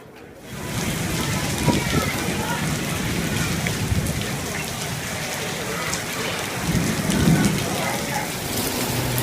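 Heavy rain with wind hammers down in a dense, steady outdoor roar in Otranto, swelling slightly in places with a few heavier splatters.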